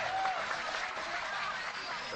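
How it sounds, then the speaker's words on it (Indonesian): A gathered audience at a public dialogue with officials claps together in a short, even burst of fairly soft applause, with a few faint chuckles mixed in. "tepuk tangan semua"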